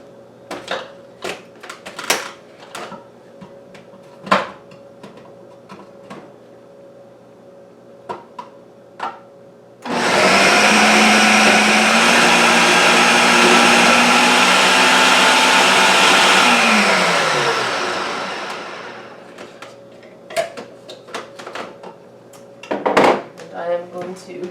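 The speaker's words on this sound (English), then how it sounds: "the grating blade back up into my Ninja blender slash mixer I bought at Costco last year" A Ninja blender-mixer fitted with its grating blade whirs loudly for about seven seconds, then spins down, with clattering handling knocks and bumps before and after.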